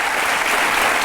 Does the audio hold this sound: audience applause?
yes